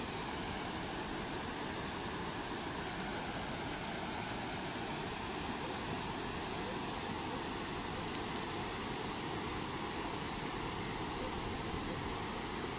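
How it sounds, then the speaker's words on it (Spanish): A waterfall near railway tracks produces a steady, broad rushing roar that stays constant and even throughout, with no voices over it. "Ahí está la cascada."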